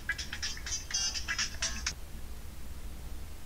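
A phone rings in short repeated electronic tone bursts for about two seconds, moderately quiet over a faint steady background hum, then falls silent.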